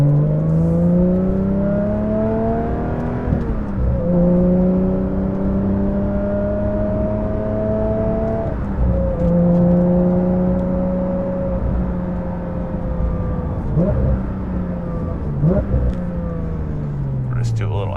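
A Porsche 992 GT3 Touring engine drones close and steady, its pitch climbing and dipping through several gear changes on a morning drive, a brief sharper rise near the end.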